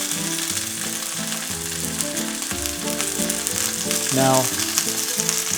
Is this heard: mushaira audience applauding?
no